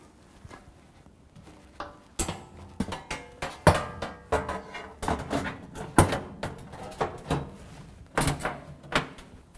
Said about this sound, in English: Grab our lower panel.